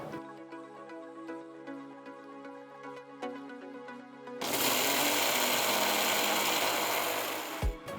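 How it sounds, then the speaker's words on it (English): Roasted jowar being ground to a coarse powder in a kitchen grinder, starting abruptly as a loud, steady whirring roar that runs for a few seconds alone over quieter background music, then cuts off sharply. "Cool the jowar and grind it to a nice coarse powder."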